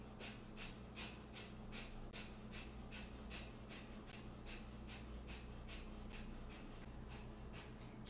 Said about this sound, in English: And it doesn't have to be a hard sniff. I just want you guys to hear what it sounds like.